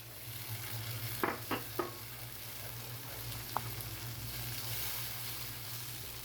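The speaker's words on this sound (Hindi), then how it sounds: "इस वक्त इसमें 2 चम्मच जो लहसुन अदरक का पेस्ट डालेंगे, कुटा हुआ, बारीक कुटा हुआ, और इसको भी फ्राई करेंगे" Finely crushed garlic-ginger paste and tomato paste frying in a pan for a white lobia masala curry, with a soft steady sizzle, a few brief clicks of the spoon near the start, and fairly quiet overall.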